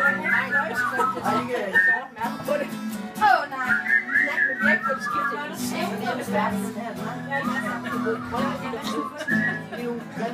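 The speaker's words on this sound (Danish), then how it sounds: "Og så fløjte vi, er I klar?" Several people whistle a wavering tune together while others talk and chatter around them at close range.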